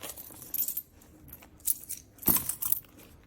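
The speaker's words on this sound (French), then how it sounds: "Donc, on vide le portefeuille." Coins are emptied out of a wallet onto a surface, making several brief metallic clinks and jingles in quick, irregular bursts, close up and fairly quiet.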